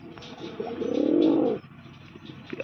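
A single pigeon gives one drawn-out, pulsing coo up close, lasting about a second before fading into quieter ambient murmurs.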